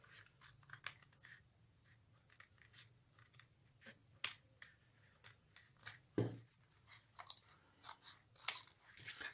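Scissors snipping extra paper strips off a handmade paper woven mat, quick small crisp cuts repeating irregularly and close up, fairly quiet, with a couple of sharper snaps among them.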